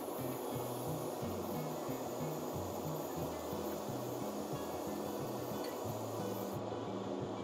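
A steady, faint hiss of spray paint coats a small 3D printed HO scale model vehicle, continuous and even and cutting off near the end, with a low humming background underneath.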